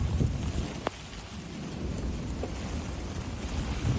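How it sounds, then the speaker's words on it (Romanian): Hailstorm in the desert of the United Arab Emirates: a dense, steady roar of falling ice and rain with one sharp crack near the start, continuous and fairly loud for four seconds, no voices. "a fost furtună cu grindină în deșertul din Emiratele Arabe Unite"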